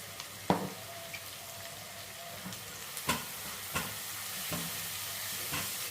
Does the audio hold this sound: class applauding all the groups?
no